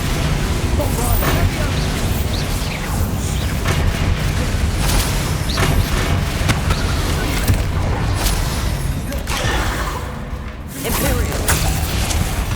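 A dense run of Bombarda explosion spells in the Hogwarts Legacy video game pounds out loud, repeated booms and bursts over a steady, busy battle din, with a short dip before the blasts resume.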